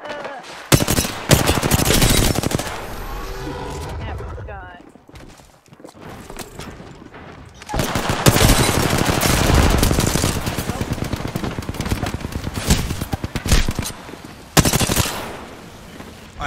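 Rapid automatic gunfire in the video game Apex Legends, loud bursts of shots that stop and restart, with a quieter gap partway through, heard alongside someone talking and shouting.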